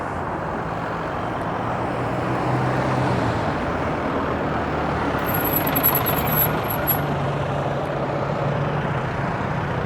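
A heavy gas truck and passing traffic rumble across a bridge as a steady, loud roar of engine and road noise, with a faint high beeping partway through.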